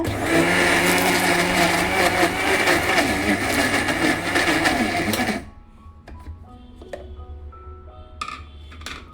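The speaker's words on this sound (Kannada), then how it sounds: "ಇವಾಗ ಸ್ವಲ್ಪ ನೀರು ಹಾಕ್ಕೊಂಡು ರುಬ್ಬಬೇಕು" A mixer grinder whirs loudly as it grinds guava with a little added water, a steady high motor whine with a churning wet rumble that stops abruptly partway, leaving quiet clinks and handling noises.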